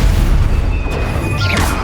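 The Confringo explosion spell in Hogwarts Legacy lands as a loud, close burst, a deep boom that fades over a second or two with a brief crackling tail.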